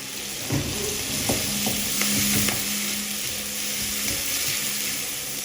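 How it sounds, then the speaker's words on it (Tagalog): Tomatoes sautéing with alamang shrimp paste in a pan for pakbet, a steady close sizzle with a few utensil knocks and stirring scrapes early on. "Then, saka na natin pwede ilagay dito yung ating alamang. Gigisa natin itong mabuti."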